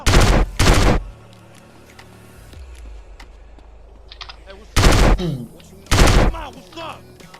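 Loud bursts of gunfire in Arizona RP, two quick volleys at the start and two more later, with quieter game sounds and faint effects in between.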